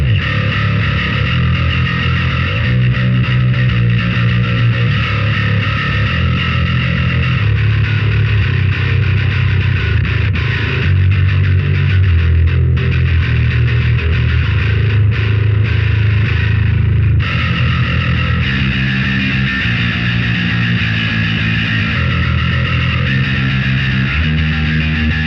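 A heavily distorted, gritty electric bass plays a riff continuously on a headless bass, loud and close with a thick overdriven amp tone from the STL Tones AmpHub plugin and no voices.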